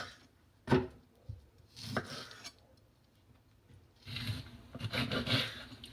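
A knife scrapes and cuts through firm grapefruit peel in short bursts, a sharp rasp, a pause, then a longer run of rough slicing strokes.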